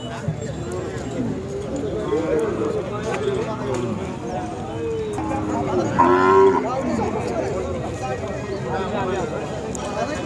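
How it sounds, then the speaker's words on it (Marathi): Several Khillar cows moo repeatedly at a cattle market in Sangola, some near and one loud close call, amid busy crowd chatter and hoof sounds. "एकदम खिलार जातीवंत गाय आहेत"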